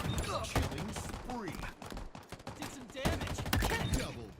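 A Halo Infinite assault rifle fires in short, punchy bursts with a chunky impact, heard under someone talking over the shots.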